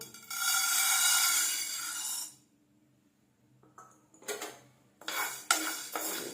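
Urad dal is roasted and stirred in a pan, giving a close hissing, rustling rush of grains for about two seconds, then quiet, followed by scattered metallic scrapes and clinks.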